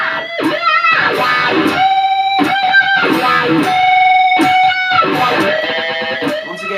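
Electric guitar riff played through a wah-wah pedal, with a scooped low quack, a unison string bend and a slide off onto the low E, loud and continuous with bright sustained bent notes.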